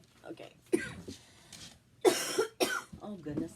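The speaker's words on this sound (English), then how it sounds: "I hope I don't get a coughing fit here" Several harsh coughs and throat-clearing bursts from a nearby person during a craft session, coming in short clusters with brief pauses and a little voice between them.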